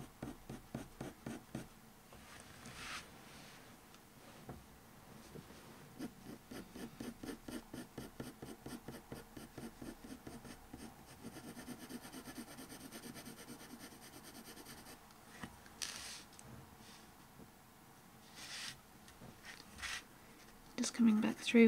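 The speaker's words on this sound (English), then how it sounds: "I'm just going to use the point of the pencil, just bring some fur lines back into that just to break up the edge." A colored pencil point flicks short fur strokes onto paper for a lion drawing, giving a long run of quick, rhythmic scratchy strokes with some softer shading rubs, close and fairly quiet.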